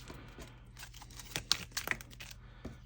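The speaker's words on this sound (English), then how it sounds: "So we're going to shuffle again, not looking" Deck of Marvel Champions cards being shuffled by hand, a quiet close run of soft papery riffles and flicks with a few sharper snaps in the middle.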